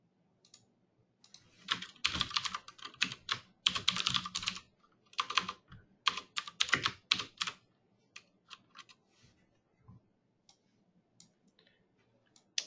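Someone types on a computer keyboard in fast bursts of close, crisp key clicks. Short pauses separate the bursts, and the typing slows to scattered taps toward the end, with no talking.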